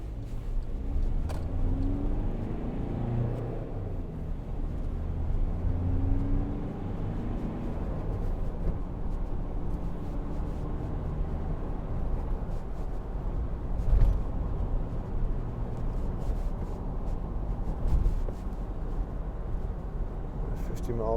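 A 2012 Volkswagen Amarok 2.0 BiTDI Trendline pickup drives over a bumpy road, its diesel engine and road rumble droning steadily from inside the cabin, with a few louder thumps from bumps along the way.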